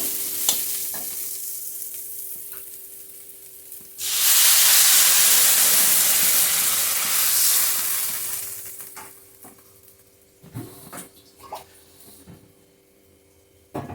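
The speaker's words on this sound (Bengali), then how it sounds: "বন্ধুরা সবজি আর মশলা একভাবে ভালোভাবে কষিয়ে নিয়েছি এখন দিয়ে দেবো জলটা" Water poured into a pan of vegetables and spices already sautéing, setting off a sudden loud sizzling hiss that holds for several seconds and then fades, followed by light stirring clatter. No one speaks.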